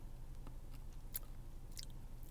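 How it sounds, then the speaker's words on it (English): Close, crunchy chewing of wheat bran flakes cereal, a few quick crisp bites and mastication sounds with no talking, fairly quiet and intimate. "It's a good crunch"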